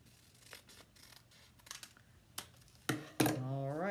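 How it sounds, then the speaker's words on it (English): Scissors cutting off the ends of a craft piece, a few soft close snips followed by two sharper cuts, with a voice talking at the end. "And I'm going to cut the other side."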